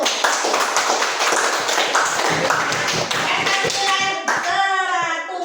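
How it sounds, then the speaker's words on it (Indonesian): Classroom applause for a student group, dense clapping from many hands filling the room steadily, with children's voices mixed in and a louder chatter near the end. "Tepuk tangan dulu untuk kelompok 1."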